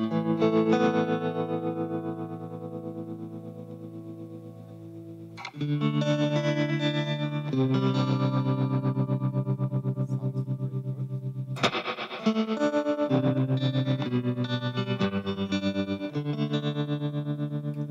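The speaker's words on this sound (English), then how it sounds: "So this is a Guyatone flip." Electric guitar through a Fender Blackface amp, Guyatone tremolo pedal in the effects loop, chords ringing with a pulsing, wavering effect, sustained and loud, changing chords a few times with no talking.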